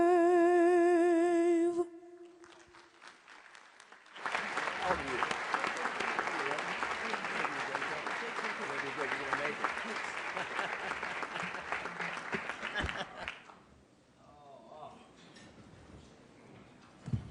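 Audience applause at an arts leadership honors breakfast, a dense, steady wash of clapping that swells after a short sung phrase and runs for around nine seconds before fading into quieter room sound.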